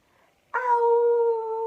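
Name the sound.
storyteller imitating a sad wolf howl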